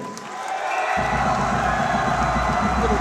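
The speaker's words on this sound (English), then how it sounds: "Little round of applause to La Salette." At a high school basketball game between SMA and La Salette, a crowd bursts into loud cheering and applause after a brief quieter moment, then keeps up a sustained, close roar.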